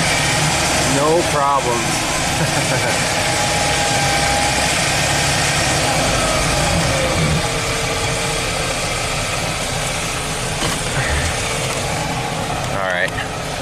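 Chevy Astro van engine laboring steadily as it crawls up a grassy, wet slope, a close, constant low rumble throughout with someone briefly speaking over it.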